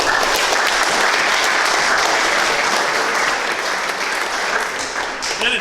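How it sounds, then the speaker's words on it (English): A group claps steadily and densely throughout, a full, close round of applause that holds at an even level and starts to thin slightly near the end. "Give a round of applause."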